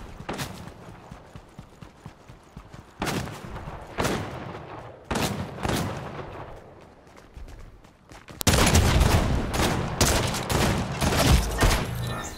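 Bursts of gunfire from a disliked weapon in a first-person shooter video game, several separate volleys of rapid loud shots with short pauses between, ending in a denser, louder stretch of continuous firing.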